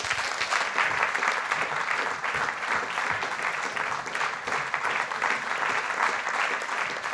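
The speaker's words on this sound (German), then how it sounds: "Bitte begrüßen Sie mit einem großen Applaus endlich Paul Maar und Wolfgang Stute." An audience greets authors Paul Maar and Wolfgang Stute with loud, sustained applause, a thick continuous patter of many hands that stays even throughout.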